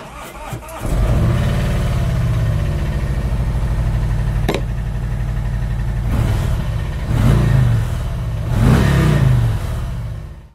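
A 2018 Harley-Davidson FLRT Freewheeler trike with its large V-twin engine and 6-speed transmission starts up and idles with a deep, loud, close rumble, blipped into several throttle revs.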